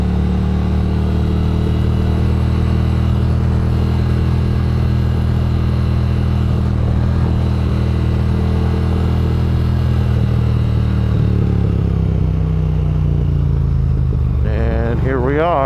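Triumph Thruxton R motorcycle engine running steadily while riding, a loud continuous low rumble that eases off near the end, with a brief squealing sound at the close.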